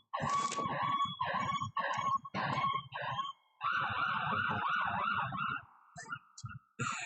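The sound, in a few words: sirens going by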